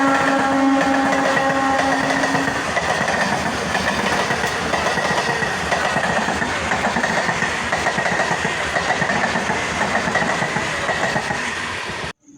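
A Vande Bharat express train runs past close by on the rails, a loud continuous roar and rumble with steady clatter throughout, a tonal hum early on, ending abruptly.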